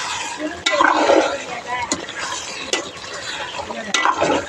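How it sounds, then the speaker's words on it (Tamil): Meat curry is stirred in a pot with several sharp scrapes of a spoon against the metal, over a bubbling, frying hiss, close and moderately loud. "ஒரு கிண்டி கிண்டி விட்டுடலாம்."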